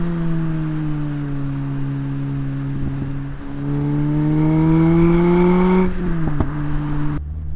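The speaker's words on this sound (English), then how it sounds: "this car has a stage 2, that's what they call it, Lotus exhaust, so it's certainly louder than a standard one" A Lotus Elise's 1.8 liter engine, Yamaha-tuned and from the Celica GTS, drones through a stage 2 Lotus exhaust, its steady tone rising under load before a sharp blip and then dropping away.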